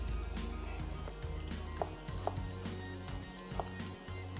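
Tomato slices dropped into onions frying in a pan with cinnamon, a steady broadband sizzle with a few soft clinks and stirring bumps, close and moderately loud with no talking.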